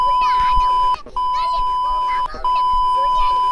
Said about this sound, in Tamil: சும்மா பீப் தான் போட்டுக்கிட்டேன்